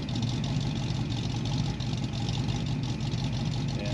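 A 1966 Ford Mustang GT with stock headers and exhaust idles after a cold start, a steady, rumbling low engine note with a slightly uneven lope, close and continuous without talk.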